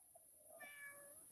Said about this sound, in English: yes, a meow.